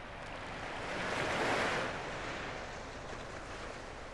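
Ocean waves break on a beach, a broad hiss of surf swelling to a peak and easing back, steady and moderately distant with some wind.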